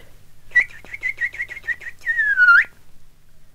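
Bird singing high in a tall tree, a quick series of about eight clear, evenly spaced whistled notes followed by one long, falling slurred whistle, fairly close and alone against quiet.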